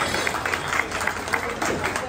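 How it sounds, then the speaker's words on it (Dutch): Audience applause at a carnival club reunion, a steady wash of many hands clapping with some crowd murmur underneath. "En daar wil ik eigenlijk gewoon een applaus voor"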